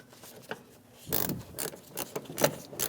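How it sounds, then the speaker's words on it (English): A hand ratchet with a 10mm socket turns a bolt through the fender of a 2016–2025 Chevrolet Malibu, giving a few quiet, close clicking strokes. "then I'll put my ratchet on"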